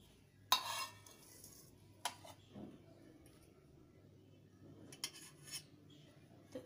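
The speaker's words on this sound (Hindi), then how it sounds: "तो एक चम्मच दही डाल दी" A spoon clinks against a dish while curd is added to cream, with a few separate sharp taps and faint scrapes spaced out over quiet room tone.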